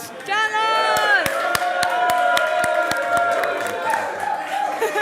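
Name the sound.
audience applause and cheering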